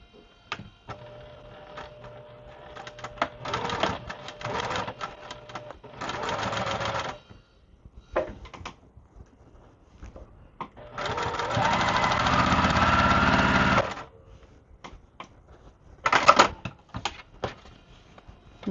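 A sewing machine stitches quilt pieces in several bursts, short runs then one longer steady stretch, with quiet handling sounds between.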